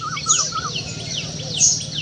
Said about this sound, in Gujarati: પક્ષીઓ મસ્ત મજાના બોલે છે